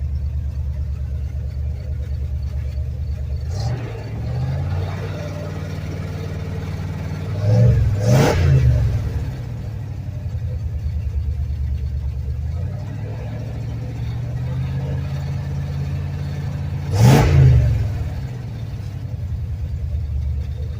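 An old pickup truck engine revs twice in strong bursts over a steady low idle rumble, each rev rising then settling back, heard up close.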